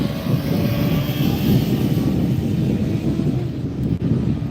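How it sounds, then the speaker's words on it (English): A SkyWest Mitsubishi CRJ200 airliner arriving at LAX from Prescott, Arizona, on flight 5067 passes as a steady, low jet rumble with a whooshing, windy edge, moderately loud and unbroken, with no talking. "that last one was a Mitsubishi CRJ200 coming in from Prescott, Arizona"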